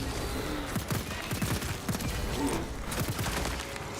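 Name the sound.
shrapnel grenade deployed in a video game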